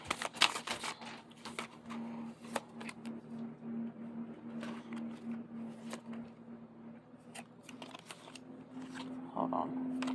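Tarot cards riffled and shuffled by hand, with crisp flicking bursts and soft shuffling, while a person talks quietly nearby.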